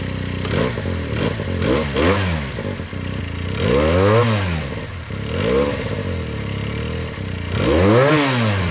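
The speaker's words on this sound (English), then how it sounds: "This is a 2023 Benelli 302s." A 2023 Benelli TNT 302s motorcycle engine idles and repeatedly revs up and down in loud, close bursts, its pitch swooping several times over a steady throaty rumble.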